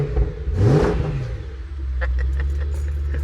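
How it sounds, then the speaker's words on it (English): A BMW E93 M3 engine gives a short, sharp rev that swells and falls back to a steady idle, close and brief, with a few light clicks after. "Listen to that engine."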